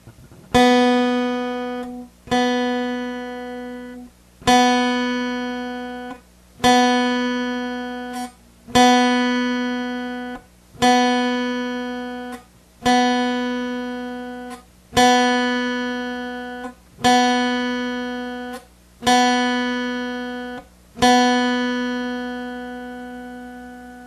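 A single guitar string is plucked about eleven times at a steady pace, each note ringing and decaying before the next, with the pitch holding nearly constant.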